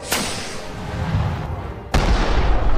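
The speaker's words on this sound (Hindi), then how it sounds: "जग्गी मेहुल पे रॉकेट छोड़ने लगता है।" Cartoon rocket effects: a sharp blast opens, a rumbling rush follows, then a second heavy explosion bursts near the end, loud and booming with no talk.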